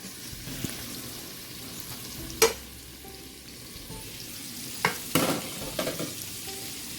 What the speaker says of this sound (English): And what you're looking for is to saute it until it is soft.